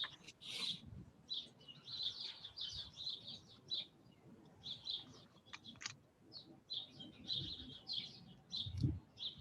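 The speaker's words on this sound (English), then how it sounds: "I love that your birds are participating too, Omar." Small birds chirp and tweet in a backyard: quick, bright calls repeat in short bursts throughout, faint and a little distant, with no talking.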